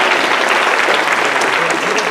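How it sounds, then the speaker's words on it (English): An audience applauds a volunteer after a memory demonstration, a dense, steady wash of clapping hands that holds loud and even from start to finish with no talk over it. "Really, give her a round of applause."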